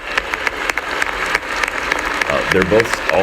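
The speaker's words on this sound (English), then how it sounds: "Both parties are standing and clapping because the bow tie man is smiling" Members of both parties stand and clap in the House chamber, a steady patter of applause with sharp claps over a crowd, while someone speaks over it toward the end.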